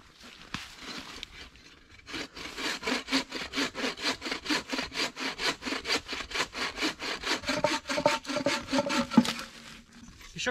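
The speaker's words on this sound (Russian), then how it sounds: "когда я пилю вот этой лучковой пилой, у меня срез идет не ровно" A bow saw cuts through fallen deadwood in a forest in fast, even back-and-forth strokes, rasping rhythmically and close up with no talking.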